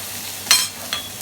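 Garlic fries in a pan with oil as red pepper, parsley and protein go in, giving a faint background sizzle broken by two quick bright stirring scrapes close by.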